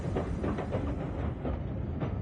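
A train in a dramatized radio play, a steady rumbling rail clatter with faint rhythmic clicks running continuously at moderate level, no voices over it.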